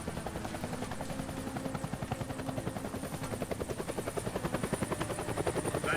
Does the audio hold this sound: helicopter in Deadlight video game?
yes